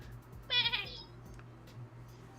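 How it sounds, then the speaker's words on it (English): A goat lets out a single short, quavering bleat, fairly close and clear over a steady low background hum, then quiet room tone follows without any talking. "That was a goat."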